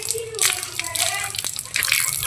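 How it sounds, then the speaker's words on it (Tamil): Tap water runs into a bucket for a full fill, a steady broadband splashing gush with brief dripping accents, close by, partly under a voice and household chatter. "தண்ணி பிடிச்சிட்ருக்காருங்க பாருங்க ஃபுல்லாக"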